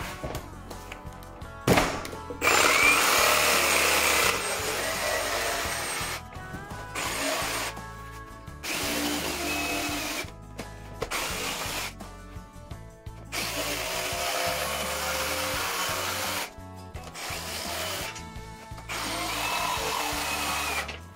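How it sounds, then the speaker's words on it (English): A power sander works along the edges of Hardie Plank fiber cement siding for a shiplap wall, loud and close, running in bursts of several seconds with short stops between passes. "sand the edges and the back."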